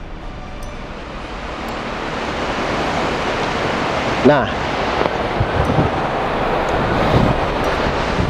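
Ocean waves washing onto a beach shore, a steady broad surf wash with wind buffeting the microphone throughout and one brief louder swell midway, as someone speaks.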